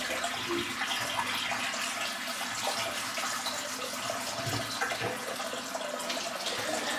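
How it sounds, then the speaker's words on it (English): Hot water pouring from a bathroom tap into a sink, a steady close splashing rush that continues without pause. "Let me fill the sink. Some hot water flowing"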